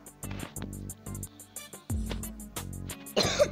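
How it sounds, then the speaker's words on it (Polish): A single short cough breaks in near the end over looping Minecraft game music with soft melodic notes, fairly close and clear. "Przepraszam, trochę kaszel"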